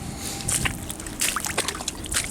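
A mudlarked pottery bowl found on the River Thames foreshore in London is rinsed in river water, giving close, light sloshing and trickling splashes in short bursts.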